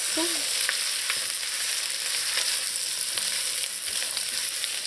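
Sweet pepper, okra and parsley sautéing for Trinidad callaloo with crab: continuous loud sizzling and crackling with soft stirring scrapes and clicks throughout, close and steady, without speech.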